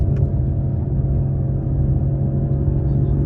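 BMW G30 540i with a 530 hp engine cruising Big Tujunga Road, a steady low engine rumble and road drone heard from inside the car, smooth and continuous with no clear shift breaks.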